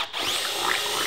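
A power drill bores a hole through a plastic bucket, a brief high whining spin heard close up with the pitch shifting as the bit bites.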